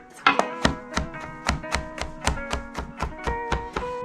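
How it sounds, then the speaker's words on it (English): Knife chopping garlic cloves on a cutting board for a gluten-free, cheese-free pizza: a steady run of about fifteen crisp, close taps at a regular rhythm. "I am chopping a couple cloves of garlic for the recipe."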